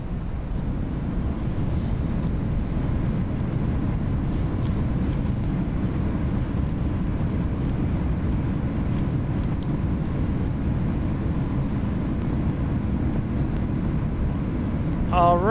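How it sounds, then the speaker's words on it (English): An Airbus A321's thrust reversers roar after touchdown in X-Plane 11, a steady, loud, broadband low rumble that holds unbroken throughout. "Reversers come out."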